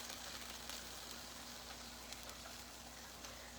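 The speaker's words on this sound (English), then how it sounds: "Can you hear that sizzling?" Vegetables for veggie wraps sizzle in a hot pan, a steady crackling hiss that stays even and fairly quiet throughout, with no talking.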